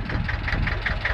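A small 28 hp tractor engine labours as it pulls a harrow across a field, a steady low drone with a faint rhythmic pulse, close and continuous.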